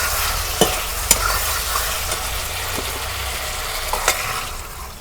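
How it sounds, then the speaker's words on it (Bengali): Potatoes stir-fried in a pan for an egg curry sizzle under a steady hiss, with a few sharp scrapes and clinks of a spatula spread across the few seconds. "এখন আমি আলুগুলা কষে নিলাম"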